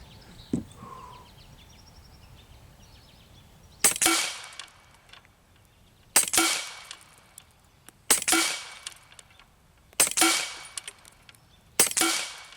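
An Air Arms SK19 .30 caliber PCP air rifle fires five sharp, loud shots at targets, spaced roughly two seconds apart, each crack followed by a brief ringing decay, with a quieter stretch before the first shot.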